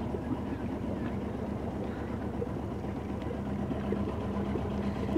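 A yacht's engine idles in neutral while the boat holds position in an eddy against a gorge wall at the Horizontal Falls. It makes a steady low, throbbing drone at moderate level for the whole span, with no voices.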